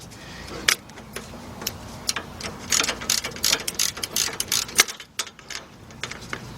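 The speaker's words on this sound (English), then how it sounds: "We gotta use my wrench, 19mm wrench or 3/4, whatever one you got." Rapid metallic ratcheting clicks in bursts, with scattered clanks, come from a 19mm wrench turning a bolt on the rear brakes of a 2005 Chevy Suburban, close and moderately loud.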